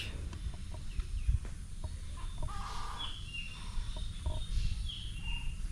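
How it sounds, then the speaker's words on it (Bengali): Birds calling in a shaded Bangladeshi village, with chickens clucking and several thin chirps and whistles rising at moderate distance over a low rumbling background. "বিভিন্ন বিভিন্ন ধরনের পাখি ডাকছে"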